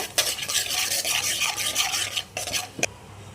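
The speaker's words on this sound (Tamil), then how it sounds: "நல்லா மிக்ஸ் பண்ணிக்கோங்க." Spoon stirring chilli, coriander and garam masala powders in hot oil in a kadai, a steady scraping, sizzling rasp with a few sharper knocks near the end, close and moderately loud, no talking.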